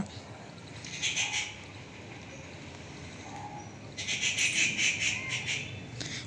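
A bird hidden in dense trees gives bursts of high, shrill chirping calls, one short phrase and then a longer, stronger one, heard at middle distance over a low outdoor hum.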